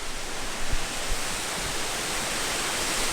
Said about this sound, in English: So here's the waterfalls.